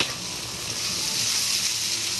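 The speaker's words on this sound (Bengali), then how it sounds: "আলুটা একটু ভালো করে আমি ভেজে নেব" Pressure-cooked potatoes fry in a pan with a steady, loud hiss of sizzling oil that holds evenly throughout.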